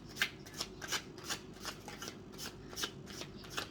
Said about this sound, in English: we shall shuffle